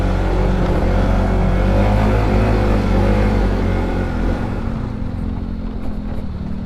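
Yamaha Mio motorcycle riding on a road toward Baler, Aurora, a loud steady motor drone with constant wind rush, close by, easing slightly toward the end.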